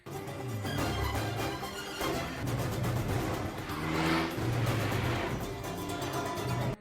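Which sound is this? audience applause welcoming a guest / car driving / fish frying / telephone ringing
car driving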